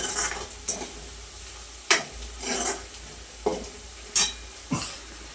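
Onion frying in a pan, stirred with a utensil: a steady low sizzle runs underneath while about six sharp scraping, clattering stirs cut through at irregular intervals, close and fairly quiet, with no talking.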